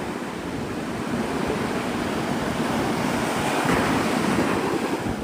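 Steady, loud waves wash ashore at Navarre Beach, Florida, as a dense, unbroken roar mixed with gusty wind noise on the microphone; no one talks.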